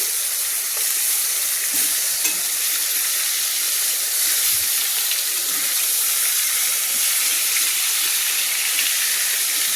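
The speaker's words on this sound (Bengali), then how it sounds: "আর এদিকে আমার চিকেনটাও ভাজা হচ্ছে। তো চিকেনটাকে দেখুন আমি একটু উল্টে দিচ্ছি।" Four chicken leg pieces frying in a pan for Kolkata-style biryani, a loud, steady broadband sizzle and hiss throughout, with a few faint bumps as the pieces are turned, no voices.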